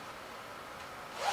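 Zipper on a Dainese W Frame leather motorcycle suit being pulled in one steady, close, continuous stroke with a slight rise at the end, heard alone.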